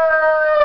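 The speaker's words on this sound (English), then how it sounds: "She has went to the bed and is barking at the neighbors." A five-year-old mini beagle lets out a single sustained, tonal howl-like bay at the neighbors, loud and close, lasting under a second.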